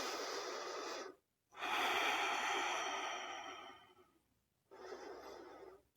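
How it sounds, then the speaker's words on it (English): Slow, deep breaths during a prenatal yoga session: a long inhale or exhale, a pause, a longer drawn-out breath, then another, soft and close with no talking. "Take a moment here just to catch your breath"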